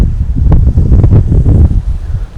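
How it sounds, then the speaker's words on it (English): Strong gusty wind buffets the microphone on a rainy Mentawai Islands coast, loud and rumbling in uneven surges with a rustling roar and no voices. "It's windy as fuck."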